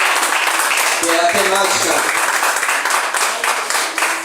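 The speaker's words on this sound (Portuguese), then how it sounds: "vamos todos dar uma forte salva de palmas a esta palavra" A church congregation gives a loud, sustained round of applause at a Christian service, dense clapping running throughout while someone speaks over it.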